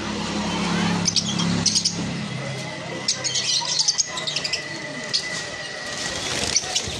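Lutino Fischer's lovebirds, black-eyed, chirp and squawk in a steady busy chatter with sharp brief calls scattered throughout, a low hum underneath.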